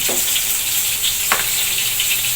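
Chicken roast cooking in a pan as oil separates around the edges, a loud, close, continuous hissing sizzle with a couple of brief spitting pops.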